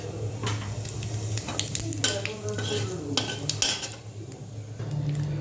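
White cumin seeds fry in a hot pan, a busy crackle broken by repeated metal spoon clinks and scrapes against the pan, close and fairly loud, with no talking.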